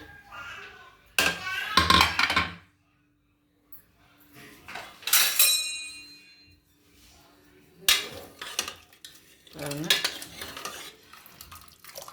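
A lid clatters onto a pot of soya kurma in a home kitchen, with several sharp metallic clanks and scrapes in separate bursts and quiet pauses between them.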